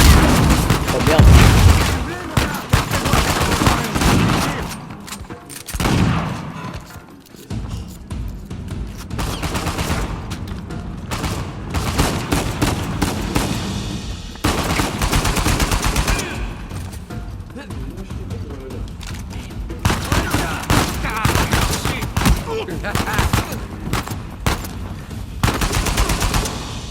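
Dense, loud gunfire in the video game Uncharted 4: rapid automatic bursts and booming shots run almost nonstop, with brief lulls, while a voice speaks over the action.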